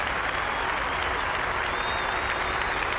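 A golf crowd at The Open at Royal Liverpool applauds a player, steady dense clapping throughout, loud and close, with no voices over it.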